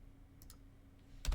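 A few brisk computer keyboard keystrokes, quiet and close, with a short cluster of clicks and a slightly louder final tap against a low room hum.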